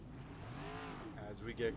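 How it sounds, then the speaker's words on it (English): Next Gen Cup race cars rolling out onto the speedway in a sim racing game, a low engine drone with a brief rising rev, faint beneath a commentator talking. "We get cars rolling here out to the speedway."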